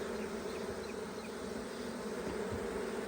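Honey bees buzz in a dense, steady drone throughout a nuc hive split in an Apimaye hive, the swarm close and loud with no pauses or talking.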